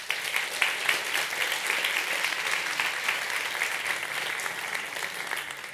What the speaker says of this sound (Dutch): Mag ik een groot applaus voor Roel Vermeulen.